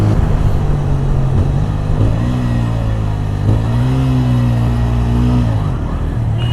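A TVS Apache RTR 160 4V motorcycle engine revs loudly and steadily through its exhaust, pitch rising and falling close by, with no talk over it.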